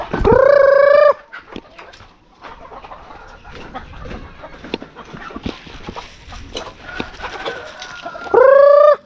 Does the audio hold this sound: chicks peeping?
yes